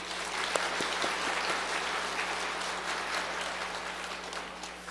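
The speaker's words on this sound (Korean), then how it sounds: "우리 장로님도 수고하셨다고 박수 한번 해주십시다" An indoor church congregation claps for an elder, a steady dense patter of many hands at moderate distance with a low hum underneath and no talking.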